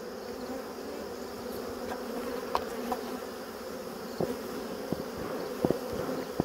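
Honeybees buzz steadily inside an opened backyard hive, a dense, continuous drone close by, with a few faint clicks and knocks from handling the frames.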